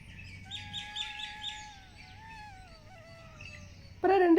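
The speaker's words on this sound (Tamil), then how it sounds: "நம்ம வீட்டில் நிறைய குருவிகள், அதிகமான குருவிகள் இருக்குது" Sparrows chirping around a house, several birds giving repeated high tweets and trilling calls nearby, with a louder burst of sound at the very end.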